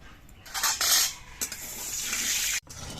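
A utensil scrapes and clinks against a wok while mustard oil is spread around its sides, in short metallic bursts separated by brief quieter gaps, near and fairly clear.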